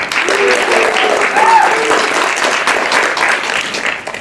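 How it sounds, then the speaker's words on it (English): Audience applause during a school stage production of Shakespeare's As You Like It, a loud, sustained wash of clapping with voices and cheering mixed in throughout. "Let's give him a round of applause for hosting the match today."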